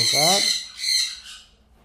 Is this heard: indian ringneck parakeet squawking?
yes